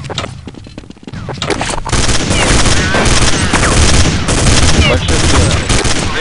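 Gunfire in a shooter video game, with dense rapid bursts and booming shots that swell to a loud, continuous barrage after a quieter opening, and voices faintly underneath.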